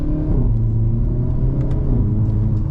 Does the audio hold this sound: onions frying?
no